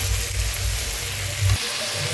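Sliced tomatoes and coriander seeds frying in a hot pan, a continuous close sizzle and hiss with a brief louder stir near the end, no talk.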